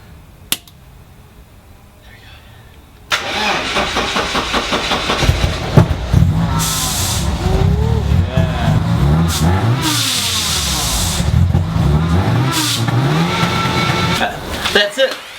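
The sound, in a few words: first start of supercharged BMW E36 M40 engine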